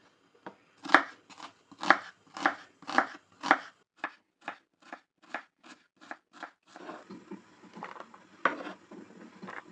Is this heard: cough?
no